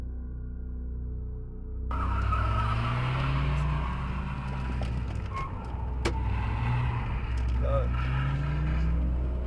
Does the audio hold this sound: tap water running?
no